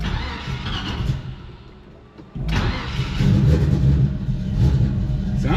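A 1972 Chevrolet C-10 truck engine, recently given carburetor work, runs close by with a rough uneven idle, dips briefly, then catches and settles into a louder steady run.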